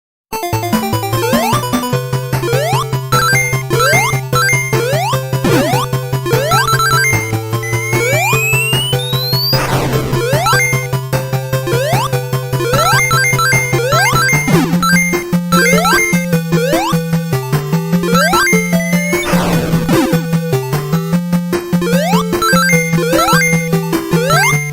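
8-bit chiptune remix plays continuously: bright square-wave melody over a bouncing bassline and steady percussion, loud and unbroken.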